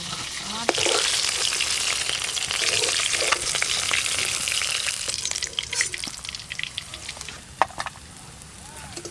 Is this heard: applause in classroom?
no